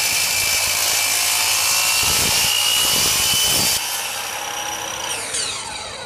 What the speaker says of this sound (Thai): จากนั้นเราก็มาตัดความยาวตามความต้องการ